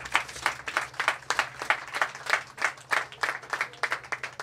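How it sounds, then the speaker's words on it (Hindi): An audience at an annual award night and mushaira gives steady, rhythmic applause, dense overlapping claps pulsing evenly and fairly close, with a faint low hum underneath and no speech. "आपकी बहुत सी तालियों में डॉक्टर मेहर तबातबाई"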